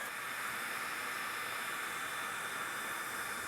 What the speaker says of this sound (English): all you do is direct the blow dryer at the brush and watch as it heats up and changes color